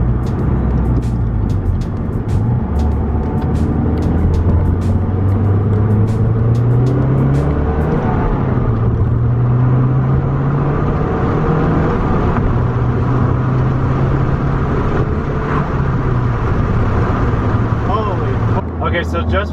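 Mazdaspeed 3 with a K&N air filter pulling hard under throttle, its engine droning loudly and rising steadily inside the cabin over about twenty seconds as the turbo intake draws air.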